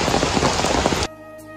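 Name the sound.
rain falling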